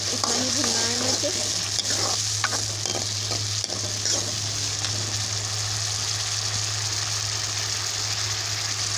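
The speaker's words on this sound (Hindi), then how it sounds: "मसाले को हमें ज़्यादा नहीं भूनना है, बस इतना कि उसकी महक चली जाए, प्याज का कच्चापन निकल जाए, इतना ही भूनना है मुझे।" Masala with onion for a matar curry sizzles steadily in a pan while being stirred, giving a continuous close frying hiss broken by occasional scraping stirs.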